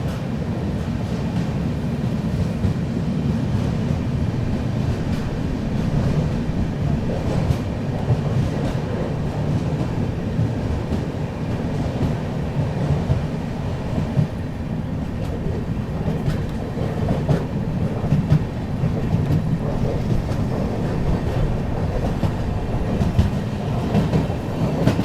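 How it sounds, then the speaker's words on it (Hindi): The Purushottam Express running at speed, heard from inside a First AC coach as a steady, continuous rumble of wheels and rails with faint clickety-clack, sustained throughout at moderate volume. "बढ़िया रफ्तार बना लिया यहाँ पर अपनी पुरुषोत्तम एक्सप्रेस ने भुवनेश्वर न्यू को स्किप करने के लिए"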